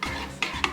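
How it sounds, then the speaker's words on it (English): Mashed potatoes with milk being stirred in a pot, wet squelching strokes with two sharp utensil clinks against the side, close up. "And you just keep stirring those boys around."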